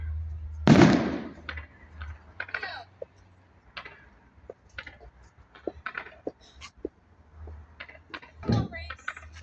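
Fireworks exploding outdoors at a Nag's Head fireworks display, with one loud, close boom near the start and another burst near the end, separated by scattered quieter pops and people talking nearby.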